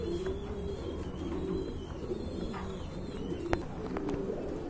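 Running pigeons cooing softly in a coop, low repeated throaty coos with a few faint chirps and a brief click, fairly quiet and steady throughout.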